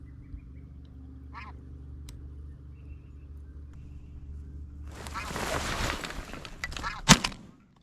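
Snow geese honk on a spring hunt, their calls scattered and fairly distant against quiet background noise. The calls grow into a dense flurry before a single sharp shotgun blast near the end.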